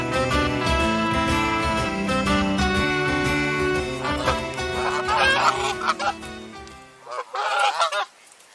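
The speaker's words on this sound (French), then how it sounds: "Vos oies me semblent parfaites," Geese on a foie gras farm honk and cackle in a dense, noisy flock over music, the calls growing sharper and more broken toward the end.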